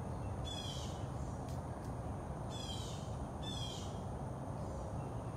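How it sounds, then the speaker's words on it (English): Birds at Big Cat Rescue call outdoors in three short bursts of rasping, crow-like caws, heard at a distance over a steady wash of background noise. "Those birds are really rowdy today."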